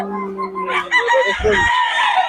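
A Lakeborn banded gamefowl rooster crows loudly and close at a private farm, one drawn-out call with a rough, buzzing tone rising over a steady low hum and other background sounds.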